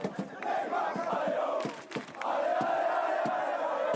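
A large crowd of football fans at Parc des Princes roars and chants to greet Neymar in his PSG shirt, a loud sustained mass of voices with rising shouts and sharp claps.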